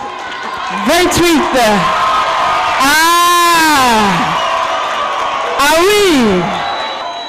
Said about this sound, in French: On applaudit, on applaudit, on applaudit.